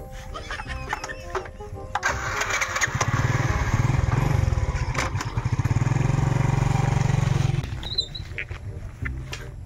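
A motorcycle engine cranks and catches, then revs in a loud throaty rumble for several seconds before settling down, with people talking nearby.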